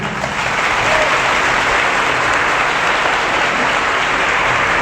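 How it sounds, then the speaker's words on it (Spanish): Sustained audience applause at a religious debate between Protestant and Catholic speakers, a dense, steady wash of clapping from a large crowd that holds at an even level throughout with no voices above it. "Un aplauso para él."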